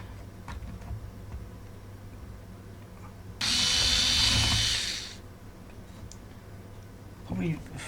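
A power drill bores guide holes into a model railway layout for a small N gauge build, a loud steady whine of about two seconds standing out between quieter bench noises and faint talk.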